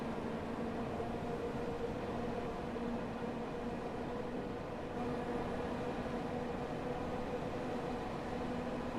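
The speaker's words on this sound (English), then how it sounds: "Train go vroom now." A London Underground train in the Train Sim World 2 game rolls with a steady, loud rumble and continuous hum that holds evenly throughout, with no voices.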